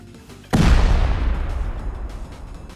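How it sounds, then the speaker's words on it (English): A C4 charge stuck on a stash detonates in Rust: a single sudden, loud, deep boom that hits at once and then rolls off in a long rumbling decay with no voices over it. "You can also stick C4 onto stashes, and then whenever you want, you can just blow it up."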